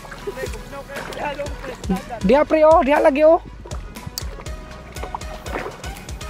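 Oars splash and knock in the water of a small rowboat on the South China Sea while people chat loudly over the rowing.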